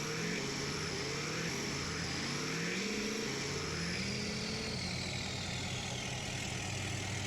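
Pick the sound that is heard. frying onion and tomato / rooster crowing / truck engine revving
truck engine revving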